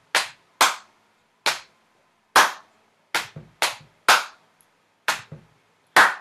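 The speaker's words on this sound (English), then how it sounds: "you play one, then one clap, and then again two on your thighs" Sharp, distinct hand claps and thigh slaps, about a dozen in all, repeat in a simple percussive groove. Each hit is close and loud and stands out against silence.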